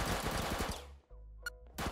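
Rapid video game gunfire from a minigame where the player shoots as fast as possible, a dense loud burst of shots for about a second, then a pause, a short electronic blip and a final burst.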